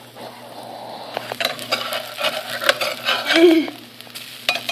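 Tuna patties sizzle and crackle in a hot frying pan, a steady frying hiss with occasional sharper pops and a brief word spoken over it.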